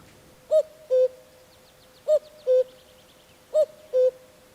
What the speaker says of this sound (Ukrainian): Так, це зозуля.